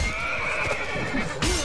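A horse whinnies in the battle game Mount & Blade Warband, a clear, wavering neigh rising and falling over faint clip-clop hooves and combat noise, moderately loud and close.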